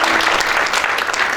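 An audience at a youth movement gathering in Batam claps together in a dense, steady round of applause, loud and continuous throughout, with no voices standing out.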